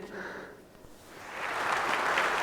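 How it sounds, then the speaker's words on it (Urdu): Applause effect for a correct answer in a televised quiz competition, a short burst of clapping that swells after a brief dip, fairly faint and alone. "راؤنڈ 2 پہ جو صحیح جواب دے گا اس کے لیے تالیاں بجیں گی کچھ اس طریقے سے،"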